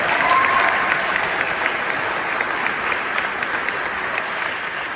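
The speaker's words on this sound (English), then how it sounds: "If we can give them a round of applause." An audience gives a sustained round of applause, a dense, even wash of clapping hands heard close and without any talking over it.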